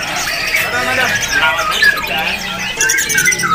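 Caged canaries at a bird market chirp and trill in quick overlapping bursts, close and fairly loud, over a steady murmur of people talking nearby.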